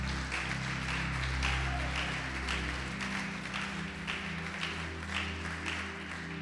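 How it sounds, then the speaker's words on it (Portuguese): A church congregation claps together in a steady, fairly soft wash of applause, sustained low musical tones humming underneath throughout. "Pode aplaudir e glorificar o Senhor."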